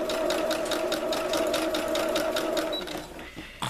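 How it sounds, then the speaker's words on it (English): A sewing machine stitches tutu fabric: a loud, close, fast, even mechanical chatter that runs steadily, then slows and stops near the end. "I'm letting the press-a-foot do the job that it's supposed to do, which is pull the fabric through the machine."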